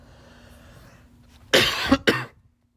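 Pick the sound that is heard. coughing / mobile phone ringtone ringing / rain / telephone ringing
coughing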